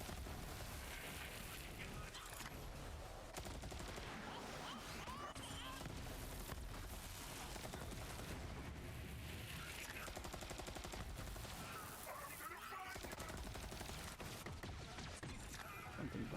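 Dense gunfire in the video game Borderlands 3 on PS5, with rapid shots, bursts and impacts packed into a loud, continuous mix of game action.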